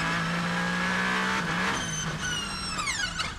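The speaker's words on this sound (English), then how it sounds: "You're allowed to spin your tyres in the pit lane," A race car in the pit lane during an endurance race at Spa spins all four tyres, with a loud sustained engine roar and rising tyre squeal, then a whining pitch that climbs as it pulls away.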